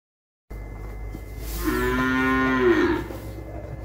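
A cow on a farm gives one long, loud moo that rises and holds before trailing off, close by over faint outdoor background noise.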